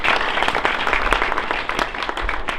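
Audience applause at a French student association ceremony for an office handover, a dense, steady wash of many hands clapping close by through the whole stretch with no speech over it.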